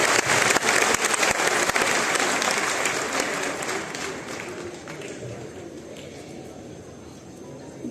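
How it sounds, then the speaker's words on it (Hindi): An audience applauds at a Jain diksha ceremony in Jaipur. Dense, loud clapping fills the hall at first and gradually thins and softens toward the end. "आपकी तालियां कमजोर पड़ रही है।"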